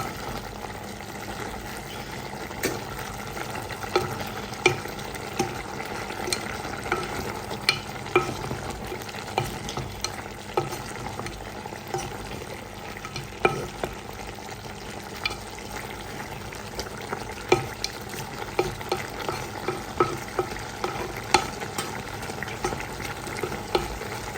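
Chicken curry ingredients are stirred together in a pot with a spoon, giving steady close scraping and clattering with small irregular knocks that continue throughout.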